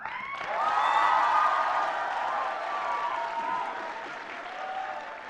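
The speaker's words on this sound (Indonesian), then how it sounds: "Kita berikan tepuk tangan bagi para pemimpin-pemimpin bangsa di masa yang akan datang." A studio audience at an Indonesian televised election-style program breaks into loud, sustained applause mixed with cheering and whoops, swelling early and holding steady for several seconds.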